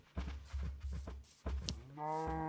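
Minecraft cows give a run of close, deep moos, several short lowing calls in a row, with a longer drawn-out moo at the end.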